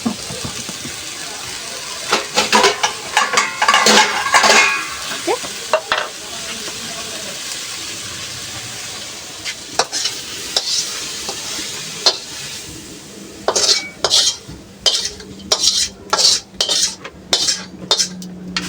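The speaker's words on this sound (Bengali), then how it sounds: "শাকের সাথে আলুটা ভালো করে মিক্স করে দেবো কুচায়ে খুন্তির সাহায্যে।" A metal spatula scrapes and stirs chopped leafy greens and potato in a pan, with a soft sizzle underneath and a run of sharp, evenly spaced clinks and scrapes growing louder toward the end.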